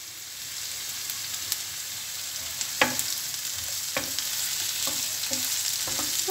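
Sliced peppers and onions sauté in a pan with a steady soft sizzle, punctuated by several sharp scraping and stirring clicks from a utensil.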